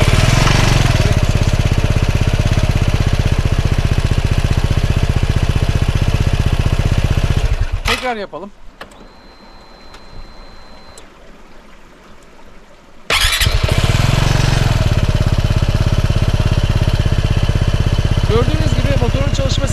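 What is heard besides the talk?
motorcycle engine idling near exhaust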